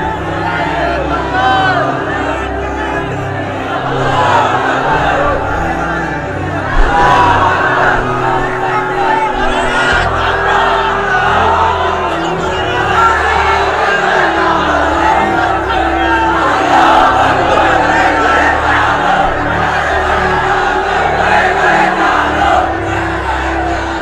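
A crowd at an Islamic sermon chants slogans in unison, a loud, dense wall of massed voices that carries steadily throughout with rhythmic swells.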